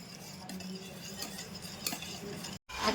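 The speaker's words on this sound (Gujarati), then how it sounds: "દહીં થોડું જામેલું છે તો સારી રીતે પહેલાં તો ફેટી લેવાનું" Set yogurt whisked briskly in a bowl: a fast, steady scraping and stirring rhythm up close, with a brief silent gap near the end before the whisking resumes.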